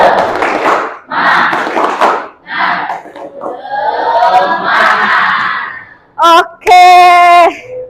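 A group of students in a school lesson performs a rhythmic spirit clap: loud bursts of patterned clapping mixed with shouted chants, then a sharp voiced call at the end.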